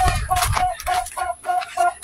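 Chickens and scattered chicks on a farm cluck close by in a steady run of short, repeated calls, with low background noise underneath.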